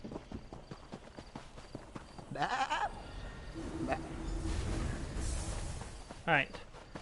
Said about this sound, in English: Get back here, you sheep.